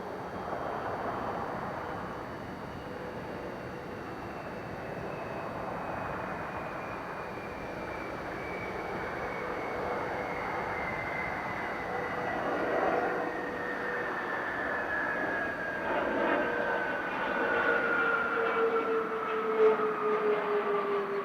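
Space Shuttle Atlantis rolling out on runway 15 at Kennedy Space Center after landing, a distant, steady roar with a slowly falling whine that continues for about twenty seconds without speech.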